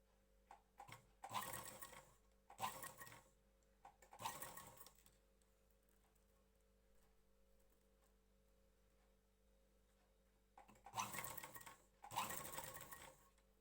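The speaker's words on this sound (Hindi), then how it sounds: "इसके बाद हम लेस को इस तरह से फोल्ड करेंगे और इसके एक साइड हम सिलाई लगाते जाएंगे।" Sewing machine stitching lace onto the back neck of a blouse, running in several close short bursts with pauses between, the motor whirring near and moderately loud with no talking.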